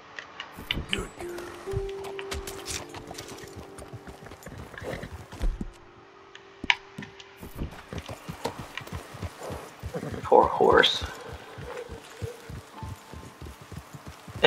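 Horse hooves clip-clop in Red Dead Redemption 2, steady rhythmic steps close by, with a brief whinny-like call near the end and game sounds and talk mixed in.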